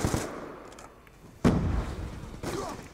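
Gunfire from a sniper rifle in a video game, heard as two sharp shots about a second apart, loud and close, the first followed by a rumbling tail.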